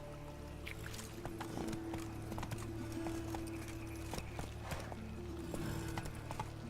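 A horse clip-clops along in The Witcher 3, the hoofbeats a soft, continuous patter over a low hum and steady game ambience, moderately quiet with no talk.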